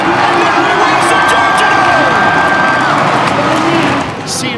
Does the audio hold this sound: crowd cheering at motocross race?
yes